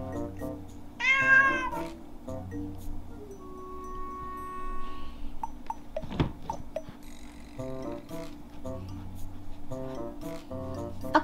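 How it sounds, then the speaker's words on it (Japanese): Cat meows played through a Google Home smart speaker, several distinct synthetic meows spread over about eleven seconds at moderate volume, with faint room sounds between them. "オッケーグーグル猫の鳴き真似をして。"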